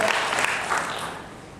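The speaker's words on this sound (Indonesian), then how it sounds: "Dan kita harus beri tepuk tangan buat Tuhan Yesus yang sangat luar biasa." Applause from a church congregation at a worship session, full clapping at the start that gradually thins and fades toward the end.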